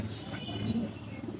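A single male pigeon held by a breeder coos softly in a low, murmuring warble, faint and close, against a quiet room background.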